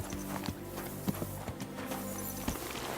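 Horse hooves in Kingdom Come: Deliverance 2 thud in an uneven clip-clop over a low steady background hum, a few louder strikes standing out.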